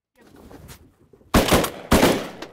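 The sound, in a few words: Versamax shotgun shots at ducks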